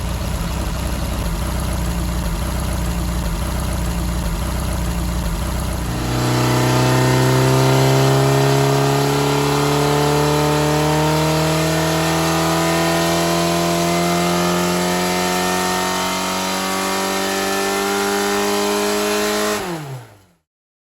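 A scrapyard Ford Pinto engine with freshly corrected cam timing idles, then revs up and holds a rising, steady drone for about fourteen seconds before cutting off abruptly at the end.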